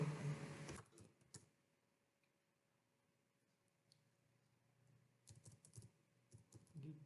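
Quiet clicks of typing on a computer keyboard, a short burst at the start and scattered keystrokes later, with a low hum between.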